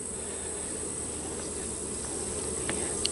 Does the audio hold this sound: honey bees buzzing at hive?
yes